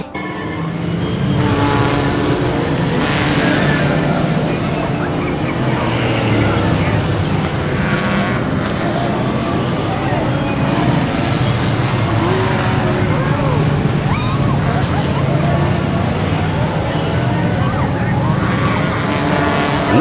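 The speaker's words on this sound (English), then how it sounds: "we're about to go on the Cars ride" Loud, continuous ride noise from the Cars ride at Disneyland California Adventure, a steady vehicle-like rumble and roar with crowd sounds and people talking throughout.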